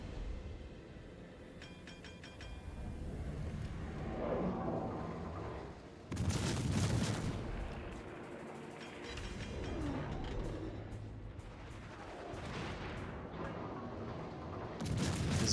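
Battleship naval guns firing in World of Warships: deep booming salvos and rumbling blasts, a heavy burst near the middle and another at the end, amid continuous mechanical battle noise.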